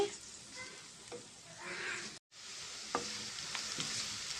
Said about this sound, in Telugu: ఇది కొంచెం పచ్చివాసన పోయేదాకా మనం ఫ్రై చేసుకుందామండి